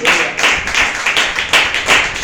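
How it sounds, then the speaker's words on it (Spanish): Church congregation clapping in a rhythmic beat during a service, loud close claps in regular pulses, roughly three per second, with no one speaking over them. "Denle un fuerte aplauso al Señor, hermano."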